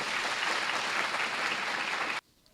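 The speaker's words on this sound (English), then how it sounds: "A round of applause for her." An audience applauds a university Vice Chancellor at a matriculation ceremony in Ho, a dense, even burst of clapping that holds steady, then cuts off abruptly near the end.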